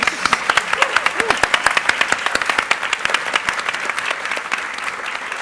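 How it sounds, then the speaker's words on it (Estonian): A live audience at an on-stage panel discussion about young investors applauds: dense, rapid, close clapping that carries on throughout and eases off slightly toward the end. "Teeme aplausi neile kõigepealt"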